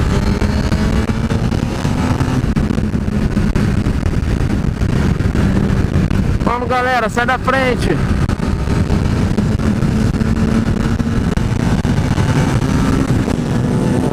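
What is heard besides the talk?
Honda CBR 1000 RR Fireblade motorcycle riding, engine running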